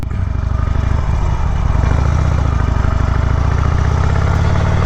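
A 2020 Harley-Davidson Roadster motorcycle engine runs steadily at a low, throbbing idle-like pulse, close and loud throughout, with a slight rise in revs partway through.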